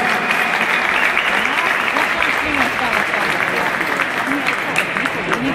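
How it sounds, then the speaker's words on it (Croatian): Loud, dense applause from a crowd at a spearfishing competition's team announcement in Mali Lošinj, sustained for several seconds with voices mixed in beneath the clapping. "aplauz"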